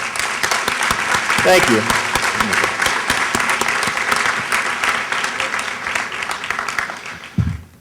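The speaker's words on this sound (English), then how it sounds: "Let's have another round of applause for the receipt." Audience applause for a grant recipient at an education event, a dense steady clapping that fills the room for several seconds, with a brief thank-you spoken over it and a thump near the end.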